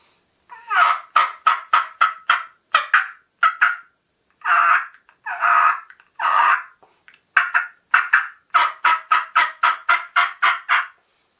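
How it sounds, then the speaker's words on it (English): A Georgia Peach turkey call yelps in crisp, raspy runs of rapid notes, separated by a few longer single calls, close and loud with no talking. "So I really like the yelp on the Georgia Peach. It's very crisp."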